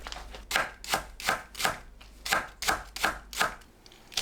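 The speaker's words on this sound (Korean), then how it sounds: "파를 길게 반 가르고 썰어주세요." Knife slicing halved green onions on a cutting board for kimchi, a steady series of about ten crisp close chops in quick rhythm with a brief pause midway, no talking.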